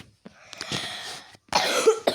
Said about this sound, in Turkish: ben niye öksürüyorum?